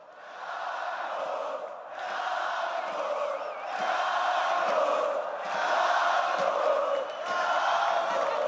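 A large esports arena crowd at the 2016 League of Legends All-Star event in Barcelona cheers and roars in sustained waves, loud and continuous, with brief dips between swells.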